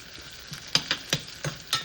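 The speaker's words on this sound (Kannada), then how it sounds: "ಇವಾಗ ಆನಿಯನ್ನ ನೀಟಾಗಿ ಫ್ರೈ ಮಾಡಬೇಕು" Onions frying in oil in a home kitchen pan while cooking veg pulav, with a steady soft sizzle and a handful of scraping stir strokes spaced about every fifth of a second, close and alone with no talk.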